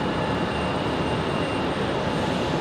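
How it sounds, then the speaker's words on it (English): A Breeze Airways airliner turns near Raleigh-Durham International Airport, giving a steady, broad jet engine roar heard from a distance. "Breeze Airways making a hard left turn there as they following that exec jet"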